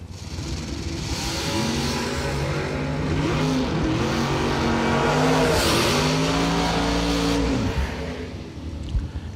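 A lime green Chevrolet Camaro race car at a drag race builds a loud, rising engine roar, revving hard and holding a strong, steady drone before it fades toward the end.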